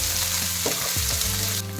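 Sliced onions hiss and sizzle loudly in hot oil with tempering spices, stirred with a steady scraping of a spoon through the pan.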